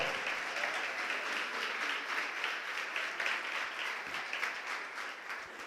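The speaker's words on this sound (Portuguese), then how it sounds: "Você pode aplaudir o nome do Senhor?" Steady applause from a church congregation during a Portuguese-language service, a fairly faint, even wash of many hands clapping continuously throughout.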